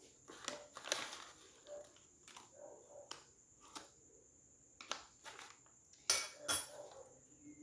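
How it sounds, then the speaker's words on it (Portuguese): Condensed milk and powdered milk being stirred in a bowl, giving a series of light, irregular utensil clinks and scrapes against the bowl with pauses between them, close and fairly quiet, and no talking. "E agora eu vou misturar bem até dissolver todo o leite em pó aqui"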